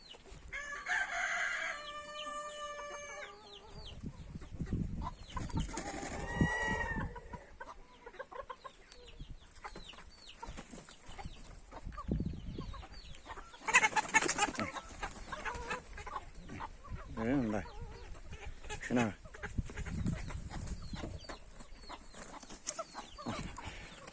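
A Cochin bantam rooster crows loudly near the start, followed by bantam hens clucking on and off amid busy farmyard noise and scattered background activity.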